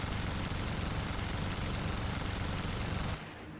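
A Bf-110 rear gunner in War Thunder fires a long, dense, unbroken machine-gun burst over engine drone, loud and close, cutting off abruptly near the end.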